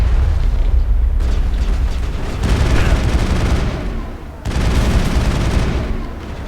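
Heavy gunfire from a powerful weapon in the video game Mass Effect, loud repeated booming bursts with short pauses between volleys, dense and close throughout.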